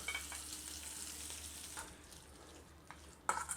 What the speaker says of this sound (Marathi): हिरवी मिरची कढीपत्ता एकदम थोडासा हिंग टाकायचा आता हा तडका आपण वतून घेऊया